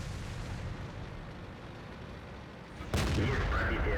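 A tank cannon fires in the World of Tanks video game, a sudden loud blast cutting through a steady rumbling battle background near the end.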